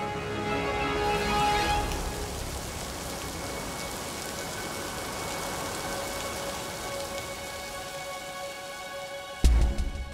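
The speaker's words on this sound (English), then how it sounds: "Then torrents of rain fall even far into the mountain ranges." Torrential rain pours down steadily across the landscape, a dense continuous hiss of heavy drops hitting surfaces, loud and close throughout with no voices, ending with a brief sharp knock.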